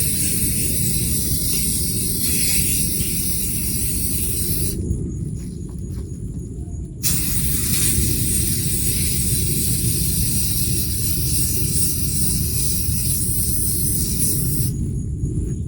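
Spray paint hissing steadily in a first white coat on DIY wall art for a craft room, one long broadband burst, a brief pause, then continuous spraying again, close and fairly loud with no talking.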